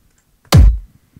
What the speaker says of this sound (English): So if I played a kick drum